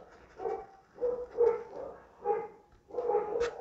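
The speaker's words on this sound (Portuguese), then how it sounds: "Hoje os cachorros estão acuando aqui." Dogs in the street bark at passing people, several separate barks and yips in short bursts, moderately distant and fairly faint, with no talk.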